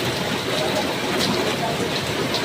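Steady rain falls on a wet morning in the Philippines, a continuous hiss of drops on surfaces with no gaps or breaks throughout.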